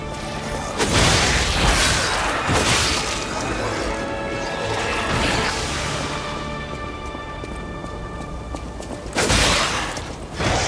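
A bomb explodes in Lies of P with a loud crashing boom, followed by rumbling debris and noisy clatter, then a second heavy burst near the end.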